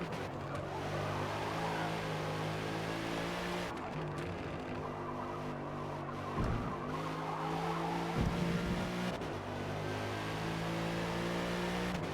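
A race car in Forza Motorsport brakes hard into a corner, its tires squealing over a steady engine drone. Several brief skid bursts break through the continuous sound, with no talk.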